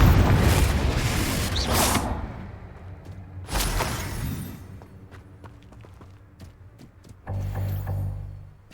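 A Confringo blasting spell in Hogwarts Legacy, a loud booming burst up front followed by a second sharp blast, scattered debris clatter, and a final rumbling hit near the end.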